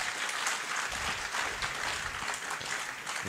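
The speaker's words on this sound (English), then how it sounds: "Let's give them a big hand clap." A conference audience gives a sustained round of applause, a dense steady patter of many hands clapping throughout at moderate distance, with no voices standing out.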